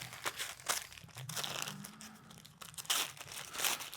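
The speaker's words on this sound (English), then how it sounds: "We'll just cut this bit of paper." Packing paper from an embroidery machine box being cut and handled, a series of close, crisp crinkles and tearing crunches in irregular bursts, with no talking.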